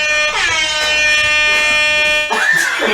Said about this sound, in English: I got extended air horn.